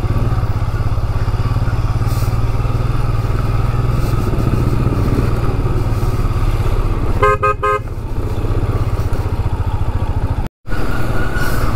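A motorcycle on a mountain road drones steadily in first and second gear, its loud, continuous engine and wind noise unbroken except for a brief cluster of horn toots partway through.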